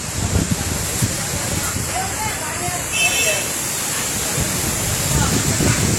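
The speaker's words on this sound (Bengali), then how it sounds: "বাতাস ছুটছে একদম।" Strong wind gusts and roars across a Bangladeshi village before a storm, buffeting the microphone in a rough, continuous rush with surging peaks.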